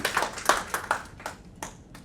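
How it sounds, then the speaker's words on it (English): A few scattered hand claps, sharp and uneven, fading quickly as a small burst of applause tapers off. "Let's hear a round of applause for Sally."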